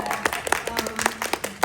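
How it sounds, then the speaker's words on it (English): Brief, scattered clapping from a small audience at an animation event Q&A, with a handful of distinct claps over a faint background rather than a full ovation. "that deserves applause"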